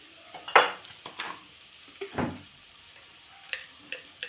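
Coriander and fenugreek powder roast in a pan for a Kerala-style tuna curry, stirred with a spoon that gives scattered metallic clinks and scrapes over a faint sizzle.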